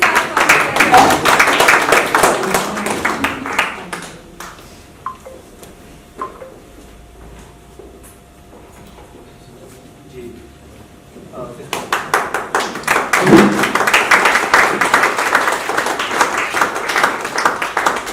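An audience clapping at a literature festival in a hall: loud, crisp rounds of applause at the start, a quieter lull with scattered sounds, then a second strong burst of clapping.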